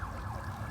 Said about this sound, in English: nice silent sirens here in Hollywood